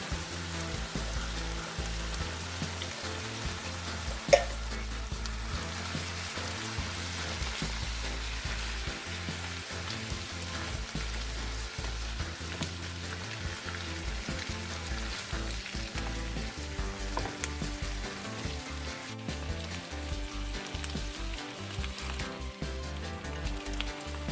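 Canned diced potatoes and corn stirred into peppers and onions frying in a pan for succotash: a steady, dense sizzle and crackle throughout, close and even, with one sharp clink early on and no talking.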